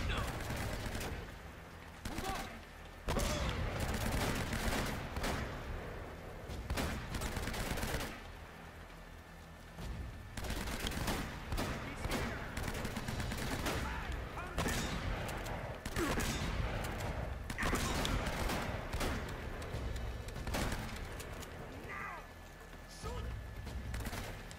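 Shotgun blasts and other gunfire in the action game Uncharted, repeated loud bursts spaced through a long firefight with constant battle noise, while someone talks over much of it.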